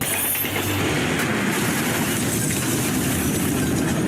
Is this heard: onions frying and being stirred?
no